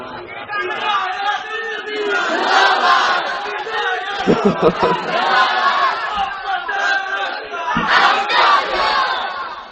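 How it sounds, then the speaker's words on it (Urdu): A large crowd at a religious gathering chants the slogan Hayat-un-Nabi, with loud massed voices shouting in unison and a rising, sustained roar, over a constant noisy babble. "نعرہ لا حیات النبی دا"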